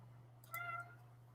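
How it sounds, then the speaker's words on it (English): A pet cat gives a single short meow, faint and brief, against a quiet room with a steady low hum behind it. "And Kitty says hello to everyone"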